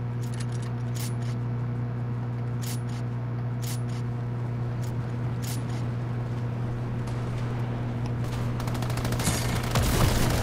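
Gunfire in the video game Fortnite, a series of sharp crackling shots in irregular bursts over a steady droning game soundtrack, growing denser near the end, with no speech.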